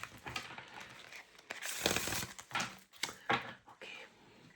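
Deck of cards being quickly shuffled, a run of crisp riffling and flicking bursts in uneven clusters, close and moderately quiet, with no clear talking.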